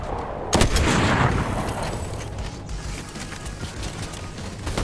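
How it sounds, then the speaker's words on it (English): Gunfire in the video game Fortnite, a loud close burst of shots followed by a sustained rattle of firing and explosive rumble continuing throughout. "Whoa, Nisha's shooting me."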